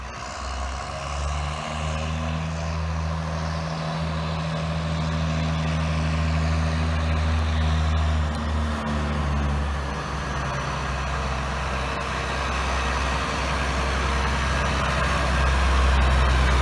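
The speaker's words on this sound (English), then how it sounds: "It sounds like a proper tractor." A 7710 tractor engine runs on a farm, giving a loud, steady, low diesel drone that holds throughout with no one talking.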